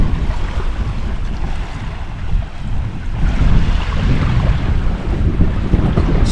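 Surf rolling onto the beach at Cayo Coco, Cuba, a loud steady wash of breaking waves mixed with heavy wind buffeting the microphone, with no voices.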